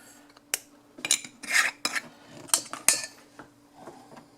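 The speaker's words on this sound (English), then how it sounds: "I always add some oregano in there and mix it in" A utensil clinks and scrapes in a bowl of ricotta, cottage cheese and oregano being stirred for a grilled lasagna, in irregular close bursts of metallic taps and scraping with brief pauses; no talking.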